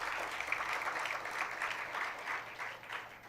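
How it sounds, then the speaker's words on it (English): Audience at a National Science Day keynote applauds steadily, a broad, moderately loud wash of clapping lasting the whole stretch with slight swells. "please give a huge round of applause to Professor Shrikant Shastri, sir."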